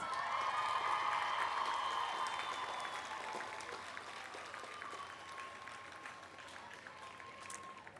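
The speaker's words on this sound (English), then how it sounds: "give them a well-deserved round of applause" A graduation audience at the Cal Poly Pomona 2015 College of Agriculture commencement claps in sustained, dense applause that starts loud and slowly tapers off over several seconds.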